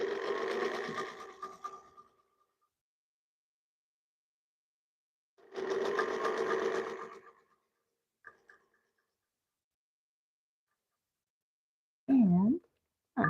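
A sewing machine stitches quilt fabric in two close bursts of a couple of seconds each with silence between, followed by a faint click and a short snippet of speech at the end.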